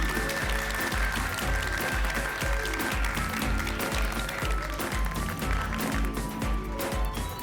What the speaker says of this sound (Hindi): सबसे पहले मिशन काला कौवा को सफल बनाने के लिए आप सभी के लिए जोरदार तालियां हो जाए.